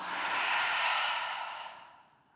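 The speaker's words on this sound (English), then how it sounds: "Exhale through the mouth, let it go." One long, deep exhale through the mouth, a close, breathy whoosh that swells and then fades gently over about two seconds during a yoga session.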